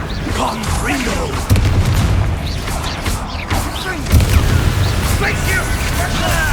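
Rapid booming spell explosions from the Confringo fire spell in a game, with a continuous dense rumble of blasts and effects and a player shouting over the top throughout.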